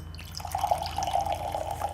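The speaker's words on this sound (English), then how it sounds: "I'm gonna pour some hard seltzer." Lemonade-flavored hard seltzer pours steadily into a glass, a continuous bubbling trickle heard close up for a couple of seconds.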